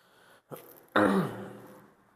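A man gives a short grunt, then clears his throat once, forcefully and raspily, close to the microphone in an otherwise quiet room.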